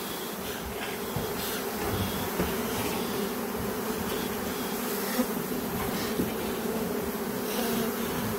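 A dense swarm of honey bees buzzes steadily inside a computer desktop case, a close, continuous drone with no voices.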